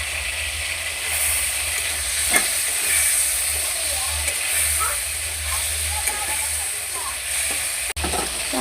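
Food frying in oil in a pan while being stirred during cooking of a Bengali eggplant, potato and fish curry, a continuous hissing sizzle with occasional utensil scrapes and knocks, a voice speaking faintly at times.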